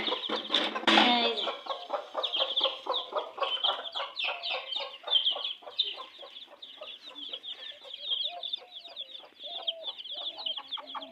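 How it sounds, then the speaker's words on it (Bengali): A hen with ten chicks clucks and peeps on a rooftop, a steady run of close, rapid chirps and clucks throughout, loudest in a brief flurry near the start. "আমার ছাদে একটা মুরগি দশটা বাচ্চা উঠাইছে"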